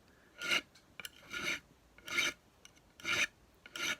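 A file rasps across guitar frets to round them, five slow, even strokes at close range, each a short scraping burst separated by quiet pauses.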